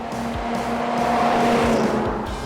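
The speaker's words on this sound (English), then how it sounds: "Now we'll let the car open up." A Ford Crown Victoria built as a Spec Panther race car accelerates on a track, its engine roaring loudly and steadily with rising revs and a faint tire squeal, close up, with no talk.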